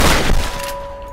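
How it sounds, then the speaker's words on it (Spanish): A loud burst of rapid gunfire in the video game Tomb Raider on PS4 opens the clip, then decays into a lingering echoing tail with a faint steady tone. "Tengo que salir de aquí a balazos."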